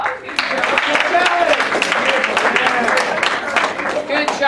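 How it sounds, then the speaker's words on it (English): A school theatre audience at a production of Antigone applauds the scenery designers, a dense burst of clapping that holds steadily for a few seconds, mixed with voices. "You can give them a round of applause."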